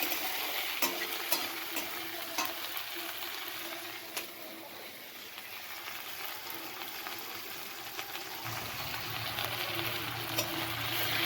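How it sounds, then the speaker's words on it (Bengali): Black cumin, chopped onion, dried and green chillies and tomato fry in hot oil, a steady close sizzle with occasional stirring clicks and scrapes, rising to a fuller crackle toward the end. "প্রথমে তেলের মধ্যে কালো জিরে, পেঁয়াজ কুচি, শুকনো লঙ্কা, টমেটো, কাঁচা লঙ্কা দিয়ে আগে ভালো করে এটাকে একটু ভাজবো।"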